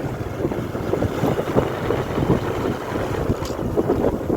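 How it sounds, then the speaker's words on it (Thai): Cold wind blowing steadily across an open outdoor place, a continuous rushing roar buffeting the microphone with gusty swells, loud and close, with no talking. "ลมหนาวเริ่มพัดลงมาแล้ว"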